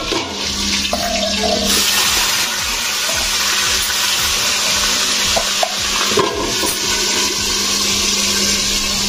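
Garlic, green chili and fenugreek seeds hit very hot oil as a tempering for kusum leaf bhaji, giving a loud, steady sizzle that carries unbroken through the whole stretch with no talking.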